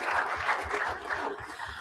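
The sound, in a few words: audience clapping for students at school board meeting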